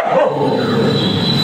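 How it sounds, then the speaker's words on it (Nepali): A dog barks once at close range, a loud, sustained bark lasting just over a second with no other sound around it. "छिमेकीले कुकुर पाल्यो भन्छ यार"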